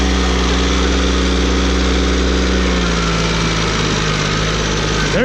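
A loud Kubota B1550 tractor engine roars hard and steady while pulling a John Deere combine, its pitch dipping slightly midway as it strains under load, with no voices over it.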